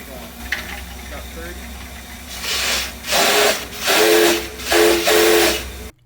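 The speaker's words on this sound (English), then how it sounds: "they're experimenting with a different steam whistle, just for fun." Steam whistle on Shay geared locomotive No.1044, fitted with an experimental step-top whistle during a slow fire-up, blowing in several sustained blasts of rising and falling strength, with background hiss and nearby voices earlier.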